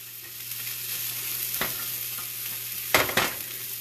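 Turkey stirred around in a frying pan, giving a steady sizzling hiss with a few louder scraping stirs near the end, close and alone.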